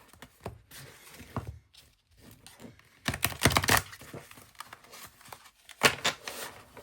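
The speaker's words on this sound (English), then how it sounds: "Just shuffle these up a bit." A Universal Folk Tarot deck and oracle cards are shuffled by hand, giving soft irregular flicks and riffling bursts, quiet and close with brief pauses between handfuls.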